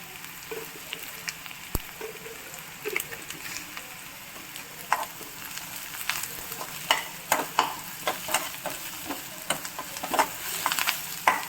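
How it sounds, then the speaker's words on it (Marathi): Onion frying in a kadai with turmeric for a quick kadai pulao: a soft, even sizzle that gains a busier run of crackles and spatula scrapes toward the end, nearby with no voices. "आता छान आपला हा कांदा भाजून झाला."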